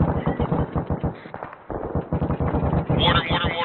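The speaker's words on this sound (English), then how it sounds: "Mortar." Mortar and artillery fire in a military training video game, a dense run of rapid booming impacts under radio chatter, with people talking throughout.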